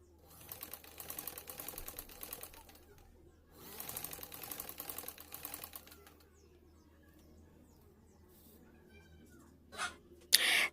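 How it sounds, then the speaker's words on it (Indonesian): Sewing machine stitching tulle onto lace fabric for a girl's dress, running in two short, quiet bursts of rapid rhythmic stitching separated by a pause, followed by near silence and a brief louder noise at the end. "Sekarang kita jahit."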